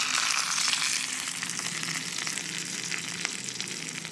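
Dried red chillies and curry leaves frying in hot oil for a chutney give a loud, close, continuous crackling sizzle that fades slightly toward the end, with no talking.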